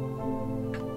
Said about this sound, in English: A grandfather clock.